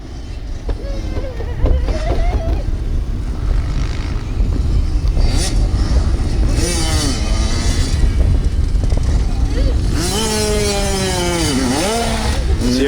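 Kids' dirt bike engines at a riding track, buzzing and revving with rising and falling whines as the bikes pass at varying distances, loud and continuous, with faint voices underneath.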